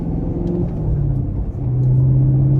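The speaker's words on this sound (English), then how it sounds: "So clutch in, first gear, bring bite point, rev." A manual transmission car pulls away from a stop on a hill, its engine a low steady rumble that rises slightly in pitch and strengthens as it moves off.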